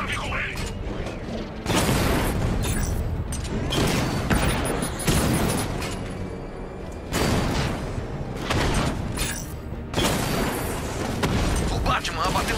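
In the Batman: Arkham Knight video game, a drone is shot down amid continuous heavy gunfire, mechanical clanks and booming explosions. The combat stays loud and dense throughout, with game voices speaking over it.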